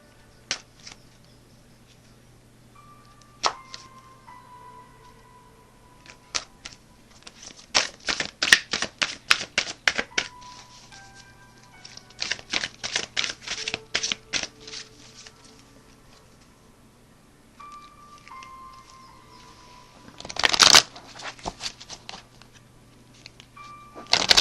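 Several bursts of rapid riffling card shuffles, crisp and close, separated by quieter handling sounds and a steady low hum.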